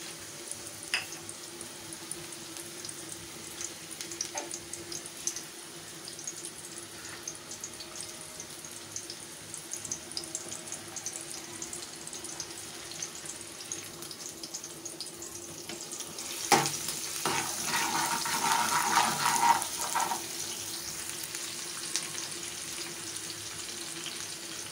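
Onions frying in hot oil in a home kitchen pan, a quiet steady sizzle with faint crackles that grows louder and busier near the end, no talking.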